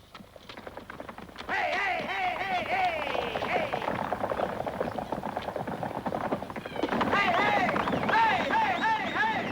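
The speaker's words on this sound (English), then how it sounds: "Buffalo hunters, tough, seasoned men who hunted the buffalo on horseback with handguns and rifles." Horses galloping as buffalo hunters ride on horseback, a steady clip-clop of hooves with whinnies rising over it, under continuous narration.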